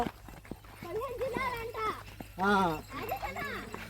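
Hooves of bullocks pulling a bullock cart clop along at a steady walking pace, close and moderately loud, under people talking and calling out.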